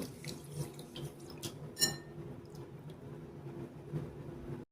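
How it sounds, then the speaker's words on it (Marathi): Quiet splashing and swishing of water in a bowl as finger millet grains are rubbed and rinsed, with small clinks and drips over a low hum. "आता हे चोळून छान धुवून घ्यायचे."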